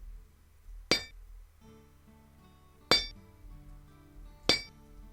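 Metal hit sound effect from a game's sound design, three separate bright metallic clinks spaced about two seconds apart, each with a sharp attack and a ringing tonal decay over low background noise.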